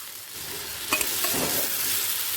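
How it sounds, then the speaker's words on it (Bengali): Fried eggs being stirred into masala on a low flame for egg curry, a soft continuous sizzle with a couple of quick spoon scrapes against the pan, close and steady. "ভেজে রাখা ডিমগুলো মশলার সাথে এক মিনিট লো ফ্লেমে কষিয়ে নিচ্ছি"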